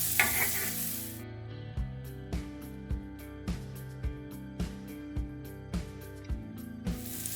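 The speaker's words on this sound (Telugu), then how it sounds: "దీంట్లో ఉడికించి పెట్టుకున్న స్వీట్ కార్న్ వేసుకుందాం. ఒక 2 నిమిషాలు వేయించుకోవాలి వీటిని." Boiled sweet corn fries on a hot tava for masala pulao. A steady sizzle gives way to rhythmic, evenly spaced knocks about every half second, like a spatula striking the pan.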